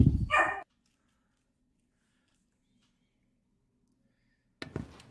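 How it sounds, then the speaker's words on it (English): Dogs in a home during a live podcast, two short loud bursts of barking, one at the very start and another near the end, separated by near silence. "Sorry about the dogs."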